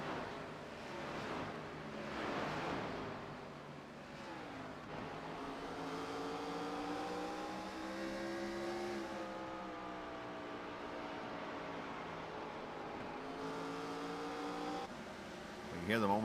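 Stock race cars in a volunteer short-track event circle the oval, engines droning steadily and rising and falling in pitch through the corners, heard at a moderate distance under continuous commentary.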